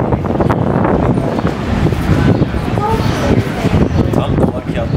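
Strong wind roars and buffets the microphone continuously outdoors in Chicago, a dense rumbling blast with gusty swells throughout.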